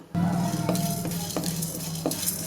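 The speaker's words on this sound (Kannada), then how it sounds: "ನಾನು ಒಂದು ಸ್ಪೂನು ಜೀರಿಗೆ ಪುಡಿ, ಒಂದು ಸ್ಪೂನ್ ಧನಿಯಾ ಪುಡಿ, ಅರ್ಧ ಟೀ ಸ್ಪೂನ್ ಕಾಳು ಮೆಣಸು ಇಷ್ಟು ಹಾಕ್ಕೊಂಡು ಫ್ರೈ ಮಾಡ್ಕೊಬೇಕು" Cumin powder, coriander powder and black pepper frying over a low flame while a spoon stirs and scrapes the pan, with a steady close sizzle and a few sharp metallic clinks.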